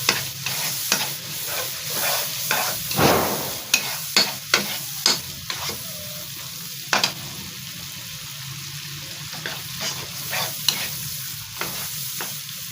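Chicken fries in a pan for a tinda vegetable dish, with a soft continuous sizzle broken by sharp, irregular spoon scrapes and stirring strokes, close and clear, with no talk.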